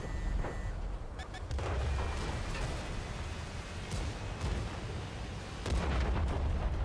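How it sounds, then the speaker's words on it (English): Artillery shells thunder through a video game battle in repeated deep booms and rumbling blasts, loud and continuous with sharp bursts scattered throughout, while a player speaks briefly over the barrage. "oh, artillery"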